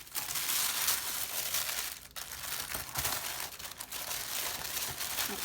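Tissue paper from a Paper Pumpkin kit box crinkles and rustles continuously up close, soft crackling handling noise with a few sharper crumples, no talk.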